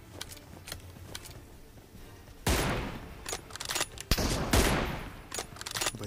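Gunfire in a PUBG Mobile team deathmatch, likely from an M24 sniper rifle: a couple of sharp, loud broadband shots with ringing tails, separated by quieter stretches of background game noise.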